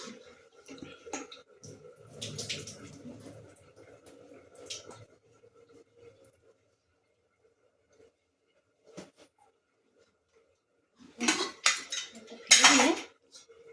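Water is drained from boiled jackfruit in a pressure cooker, with metal pot clatter and dripping, then pauses and a loud burst of pouring and clanking near the end.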